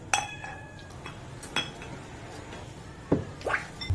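Glasses clink in a toast over a meal of crispy lechon belly with Coke, giving several light, bright taps scattered over a few seconds amid soft table clatter and background noise.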